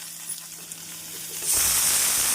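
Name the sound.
chopped onions frying in oil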